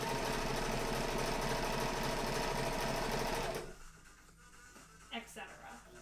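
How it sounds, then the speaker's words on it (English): A sewing machine runs loud and steady with a dense mechanical whir, then cuts off abruptly, leaving quiet room noise and a few faint knocks. "does it sound like a sewing machine far away?"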